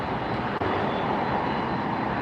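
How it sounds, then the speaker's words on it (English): A Virgin Atlantic airliner at LAX produces a steady, broad jet engine roar with no breaks, loud and fairly close, and no one speaks. "And there goes the Virgin Atlantic."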